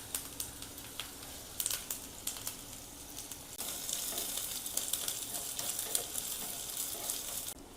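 Mustard seeds, urad dal, a dried red chili and curry leaves crackle and sizzle in hot oil for a coconut and onion chutney tempering, a close, busy frying hiss with sharp pops and stirring, growing louder midway.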